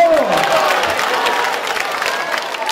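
A crowd at a 2012 BJP election campaign rally in Ahmedabad, Gujarat breaks into loud applause and cheering. A voice trails off at the start, then the clapping carries on thick and close.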